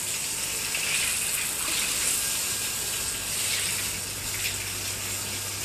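Water splashed and poured across a room floor in a home, a steady wash of gushing, hissing flow that holds evenly for several seconds, close and fairly loud with no talking.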